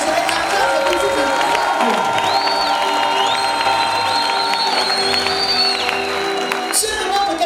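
Church congregation cheering and acclaiming, a loud dense crowd of shouts and whoops with voices throughout, sustained for several seconds with a sharp peak near the end.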